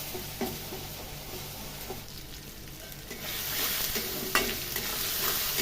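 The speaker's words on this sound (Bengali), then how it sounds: "ভালো করে একটু ভাজা ভাজা করে নিই" Vegetables fry in a pan during home cooking of a vegetarian Bengali dish, with steady sizzling and intermittent scraping stirs, louder in the second half, no talking.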